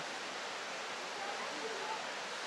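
A mountain stream flowing over rocks, heard from above, gives a steady faint broadband rush of water that stays even throughout with no voices.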